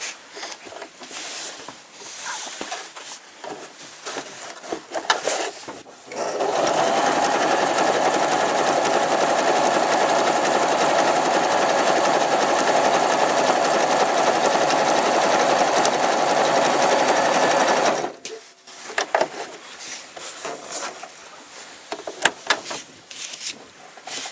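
An Elna 2600/2800 sewing machine runs a double stitch in one steady, loud mechanical whir lasting about twelve seconds, with quieter handling clicks and bumps before and after.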